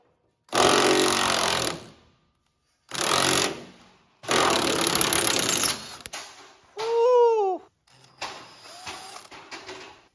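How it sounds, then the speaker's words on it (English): Back cab mounts on a 1969 Dodge D200 Sweptline crew cab being unbolted during a first-gen Cummins chassis swap: several loud, close bursts of power-tool rattling separated by short pauses, one with a rising whine. "gotta take these back cab mounts out here, unbolt them"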